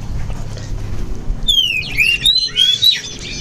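Kacer and raja birds at a rooftop breeding aviary give a run of bright, sharp chirps and short whistled calls over a low background rumble, close by and fairly loud.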